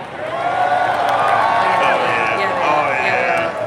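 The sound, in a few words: tournament crowd cheering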